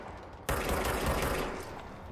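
A gun fires in the Control video game, a sudden loud burst of rapid shots that starts after a brief quiet moment and rattles on, fading slightly toward the end, with no voices over it.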